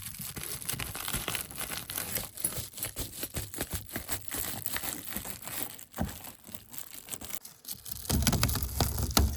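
Crinkly, crackling Reflectix foil insulation is cut with scissors and handled up close, a continuous rustle of snips and crumpling.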